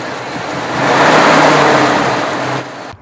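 A Chrysler straight-eight car engine catches and runs, a loud, close mechanical rumble that swells and holds briefly before cutting off abruptly.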